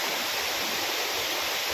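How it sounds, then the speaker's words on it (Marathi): Waterfall at Trimbakeshwar, a continuous broadband rush of falling water, steady and enveloping. "खूप छान धबधबा आहे तुम्हाला आवाज येतो आहे की नाही"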